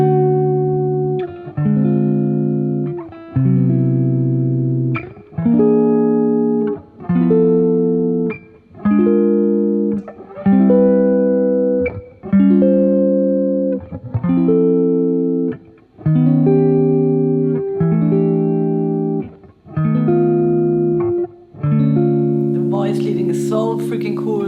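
Upper-structure drop 2 chord voicings, played without the root, ring out one after another in a steady, even sequence of about a dozen sustained chords, each clearly separated and at a consistent loud level.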